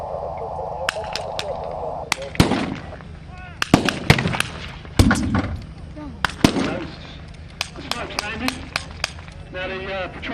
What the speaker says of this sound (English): What they'll do first, they'll fire ranging shots, mate.